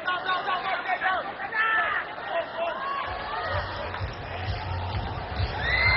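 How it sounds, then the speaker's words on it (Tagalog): Crowd at a Barangay Ginebra PBA basketball game roars and cheers for fan favorite Rob Labagala heading to the scorer's table, a steady loud hubbub that swells toward the end, with an announcer talking over it. "At hiyawan dito dahil yung fan favorite ng Barangay Ginebra, si Rob Labagala is making his way to the scorer's table."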